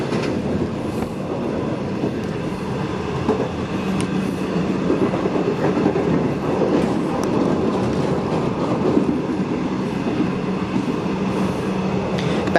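A V/Line passenger train heading to Geelong, heard from inside a carriage as a steady loud rumble of wheels on track with faint clicks and rattles throughout.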